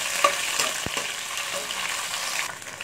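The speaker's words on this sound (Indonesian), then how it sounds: "Step kedua kita goreng tahu guys." Tofu frying in hot oil and being stirred in a home kitchen, a steady broadband sizzle with a few sharp pops and spatters near the start, continuous and close for a few seconds.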